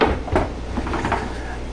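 A Hampton lazy susan corner base kitchen cabinet shelf is lifted and turned, giving a few soft wooden knocks and rubbing scrapes close by, with no talk.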